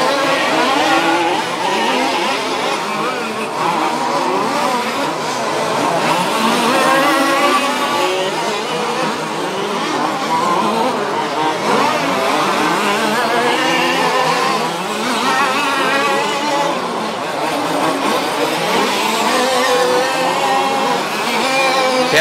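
An OR6 2WD RC race car at a German championship final runs onto the straight, its high, buzzing electric motor whine sustained and loud, rising and falling in pitch as it holds speed.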